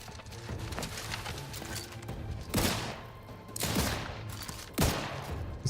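Gunfire in The Outer Worlds 2, with three sharp distant shots spaced a second or more apart over quiet outdoor ambience with a soft low hum.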